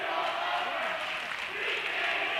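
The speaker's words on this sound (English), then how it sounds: "The Bensalem crowd rises to their feet as they will go back to Bensalem a victor." Bensalem fans roar at a high school boys basketball game against NPHS, a steady, dense wall of crowd cheering that holds loud throughout with no break.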